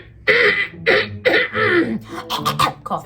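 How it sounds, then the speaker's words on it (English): Someone coughs repeatedly at close range, a run of five or six rough, throaty coughs in quick succession with short gaps between them. "I have a little cough."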